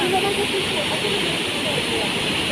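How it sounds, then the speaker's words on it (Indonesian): Steady broadband rushing roar of Sri Gethuk waterfall, constant and fairly loud throughout with no pauses. "Ya, air terjun si Getruk"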